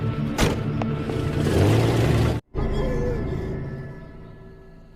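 A car revs and roars away in a film scene, a loud engine rumble that cuts out abruptly midway, then resumes as a steady, gradually fading drive.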